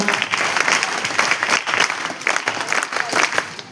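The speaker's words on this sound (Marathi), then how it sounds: "एकदा सुनील दादांच्यासाठी एकदा जोरदार टाळ्या वाजवा" Audience at a gathering applauding in a sustained burst of dense, crackling clapping from many hands that holds steady for several seconds.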